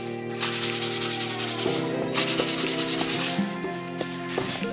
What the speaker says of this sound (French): on va d'abord commencer par poncer les aspérités qui se trouvent au niveau du mur